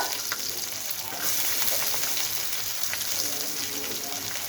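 Onion pieces and curry leaves frying in oil for a bitter gourd fry, a steady close sizzle with faint stirring scrapes, no talking.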